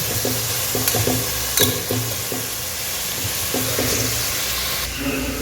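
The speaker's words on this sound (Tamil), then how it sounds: "நான் எண்ணெய் ஊற்றாமல் கூட நீங்கள் வெங்காயம் தாளிக்கலாம்" Onions sizzle steadily in a hot pan for mutton biryani while a utensil scrapes and taps against the metal now and then.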